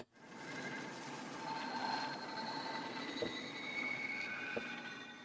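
Heavyocity Mosaic Pads synth pad preset called Neutrino Radiation: a dense, noisy, rumbling textured drone with shifting metallic tones and a few faint clicks, steady and sustained, heard alone.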